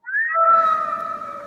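A recorded house cat's meow played back during a children's speech and language exercise, one clear rising-then-steady tonal cry of about a second, close and alone.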